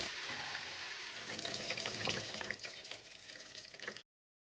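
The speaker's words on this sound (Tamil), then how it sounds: "தண்ணி விட்டு இந்த மாதிரி தான் கழுவி எடுக்கும்" Tap water runs steadily while food is washed and rinsed through a strainer in a home kitchen during murukku preparation, a faint continuous splashing that cuts off abruptly near the end.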